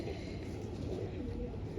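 A pigeon of an old breed coos softly in a loft, with low, muffled coos blended into a steady rumbling background and faint talk nearby.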